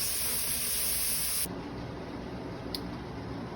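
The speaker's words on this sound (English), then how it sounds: "now we have a much more powerful steam venting here" Steam jetting hard from the vent of a pressure canner processing cranberry juice, a loud broad hiss that cuts off abruptly partway through, leaving a softer, lower rushing vent sound with a brief sharp spurt near the end.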